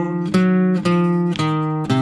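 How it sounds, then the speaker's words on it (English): A guitar plucks a low, steady bass line, four sustained notes in even succession, each ringing out clearly before the next. "the bass line that's being played underneath of the guitar solo"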